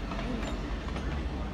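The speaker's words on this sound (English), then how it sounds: "Today's train is short." A short train rolls past at the edge of the woods, giving a steady low rumble and rattling wagon noise throughout, with a voice faintly present beneath it.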